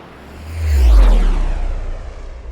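A loud airplane taking off, building as a roaring rush that peaks about a second in, with a falling whoosh as it sweeps past, then a steady rumble fading slightly, no voices.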